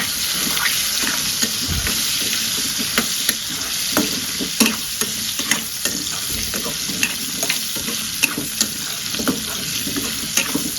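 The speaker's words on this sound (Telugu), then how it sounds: "మంచిగా కలర్ వచ్చే వరకు వేయించుకోవాలా" Fenugreek leaves, potato and tomato with turmeric frying in a pan, a loud constant sizzle with frequent scraping stirs and utensil taps throughout, close up and with no voices.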